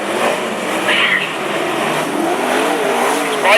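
Sprintcars race at Mac's Speedway, loud close engines revving and sweeping through a corner in a continuous snarling roar.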